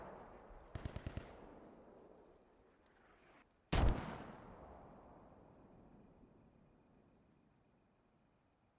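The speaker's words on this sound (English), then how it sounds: "I think the Axis mortars are firing right now" Mortar and gunfire in the World War II shooter Post Scriptum: a quick rattling burst, then a single heavy boom that decays slowly into a long fading rumble, distant and fairly faint.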